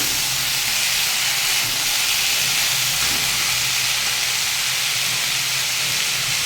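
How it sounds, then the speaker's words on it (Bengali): Mixed vegetables with a piece of sweet potato frying in oil and salt, giving a loud, unbroken broadband hiss that holds evenly throughout with no talking. "এখন একসাথে এটা কষাচ্ছি।"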